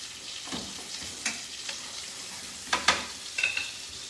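Brown butter and flour sauce for homemade gnocchi stirred in a pan as it thickens, giving a soft steady sizzle with a few brief scraping clicks of the spoon near the end.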